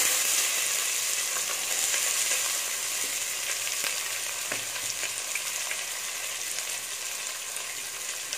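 Finely chopped onions sauté in oil for raw jackfruit kurma, producing a dense, even sizzle up close with a few light stirring scrapes.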